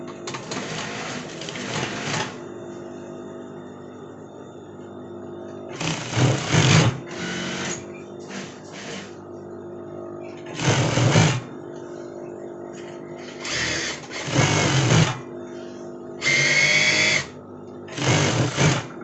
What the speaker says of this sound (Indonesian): Nah, ini langsung kita jahit ke badan puring ya. Kita langsung jahitnya stick kecil, main tembak ya.